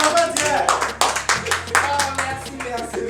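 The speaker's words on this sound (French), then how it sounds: "Applaudissez pour les enfants tiers." Audience applause for children at a comedy event, a burst of many hands clapping with rapid uneven claps mixed with a voice talking and low music underneath.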